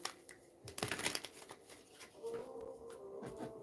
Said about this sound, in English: All right, a couple more shuffles.